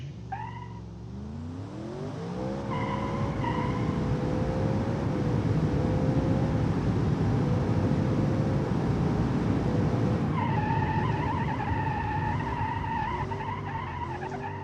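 A powerful car accelerating hard in the BeamNG driving game, its engine note climbing and holding loud and sustained with a sharp rising whine, then rising again near the end, with no voices.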